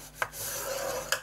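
Paper for a handmade gift box is scored, giving two quick sharp scrapes about a second apart over a soft steady hiss, close and faint.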